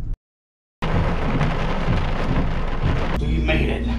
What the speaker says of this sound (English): it is gonna be pouring down rain when that door opens